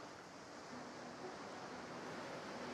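Ocean waves on the beach at Fort Joy in Divinity: Original Sin 2, a steady, soft wash of surf and breeze with no distinct breakers, faint and even throughout.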